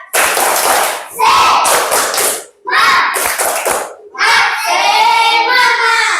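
Bursts of loud group clapping in a patterned rhythm with Indonesian children shouting along, broken by short pauses, ending in a longer sustained chant.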